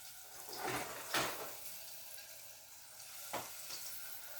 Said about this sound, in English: you must hear my onion right now being sauteed, because that means the pan is hot